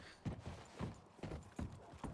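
Horse hooves clop at a steady trot in a Wild West roleplay video game, with about five evenly spaced, fairly quiet thuds and no talking.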